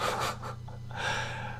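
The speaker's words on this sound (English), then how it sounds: "Nobody else gets to work with a snoring dog." A dog snores in a couple of breathy, snorting pulls, fairly close and alone with no talk over it.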